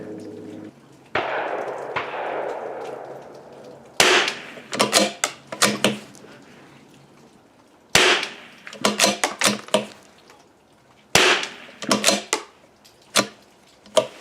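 A CZ 457 rifle fires at a snowy, cold outdoor range from a bipod, sharp isolated reports spaced several seconds apart, each followed by brief clattering bolt and handling noises.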